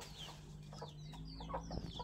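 Backyard chickens clucking as they wait to be fed, several short soft clucks and calls scattered over a low hum, fairly faint and close with no talking.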